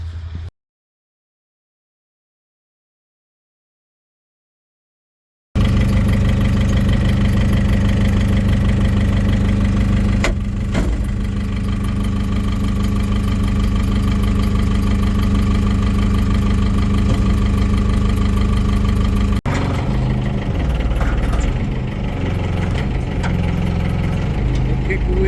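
A Gradall excavator's engine cranks and then settles into a steady, loud idle after a brief pause. The low rumble carries on without a break and shifts slightly in tone partway through.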